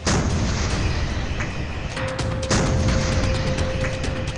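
A K9 Vajra self-propelled artillery gun fires with a loud, sustained booming roar that fills the whole short stretch.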